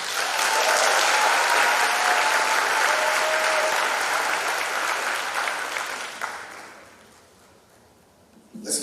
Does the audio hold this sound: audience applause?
yes